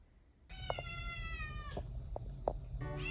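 A ragdoll kitten gives a series of close, drawn-out meows, some strained and wailing, with short pauses between them in a quiet room.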